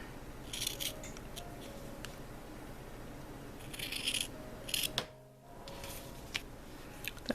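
Scissors snipping through wool fabric rectangles marked with a marking pencil for a punch needle project's fringe edge, giving several short bursts of crisp cutting sounds spread across the clip at close range, with quiet pauses between.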